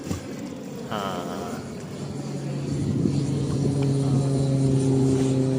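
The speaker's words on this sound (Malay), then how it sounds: "Inilah kapal terbang yang boleh turun dalam air guys. Nampak tak? Dia nak mendarat ni." A seaplane descends to land on water in an island survival video game, its steady propeller drone building in the foreground with a rising engine tone, and no voices heard.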